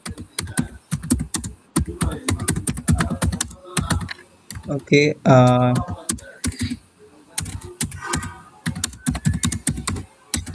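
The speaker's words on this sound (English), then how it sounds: "Hearing someone's keyboard noise," Computer keyboard typing during an online Microsoft Intune training session: rapid, irregular key clicks come in bursts, pausing briefly while a voice speaks a single word in the middle.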